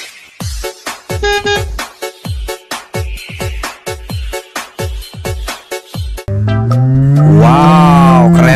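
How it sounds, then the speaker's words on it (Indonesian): A black cow moos loudly and close, a long drawn-out bellow that follows a run of rhythmic thumping and clanking as cattle are loaded onto a colorful truck. "lihat ini, ada sapi warna hitam teman-teman"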